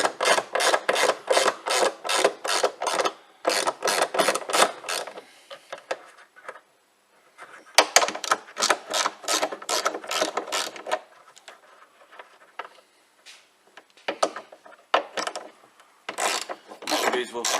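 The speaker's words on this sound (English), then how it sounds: "then we've got the 10mm socket on these three" A ratchet with a 10mm socket undoes bolts on a Land Rover Discovery 4 rear wiper motor, with quick close clicking runs in bursts separated by short pauses.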